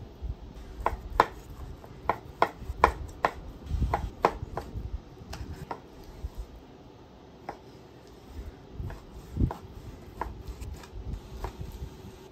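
A knife cuts beef into one- to two-inch cubes for grinding, with sharp chopping strikes on a cutting board in uneven bursts and some soft shuffling between cuts, close and alone.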